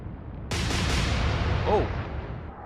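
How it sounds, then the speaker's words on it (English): Heavy 14-inch naval guns fire in the Atlantic Fleet naval battle game: one sudden loud blast that rolls into a long, fading rumble, with a brief whistling tone near the end. "They're hitting us with 14-inch guns"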